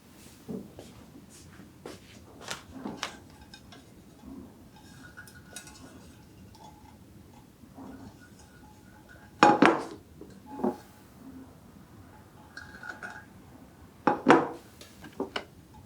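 Stainless steel plates clink and clatter against each other in scattered bursts, a few louder knocks among quieter taps, close by.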